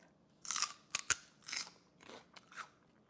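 Crisp crunching bites into raw garden celery, a handful of sharp, fibrous snaps and crunches in an uneven rhythm, close and fairly quiet with no talking.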